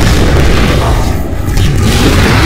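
Heavy booming gunfire and explosions from the video game Halo: Spartan Strike, loud and dense throughout with no break.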